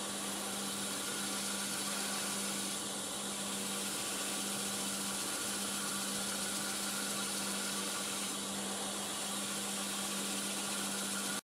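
A wood lathe spins in reverse at about 400 RPM during a lacquer finishing job, a steady low motor hum with a faint constant whine and no talking.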